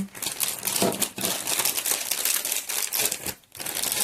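A plastic bag crinkles and rustles continuously up close, with crackling handling noises and a brief pause near the end.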